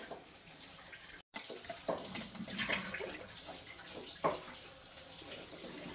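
A quart of thick homemade bone broth is poured from its container into a cooking pot, making a close, gurgling splash with a brief glug partway through. No one speaks.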